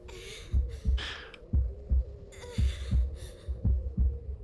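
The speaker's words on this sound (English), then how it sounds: "Your heart beating." A heartbeat in the video game Grandia III thumps in steady paired beats, lub-dub, roughly every second, over a low drone with some brief hissy sound effects above.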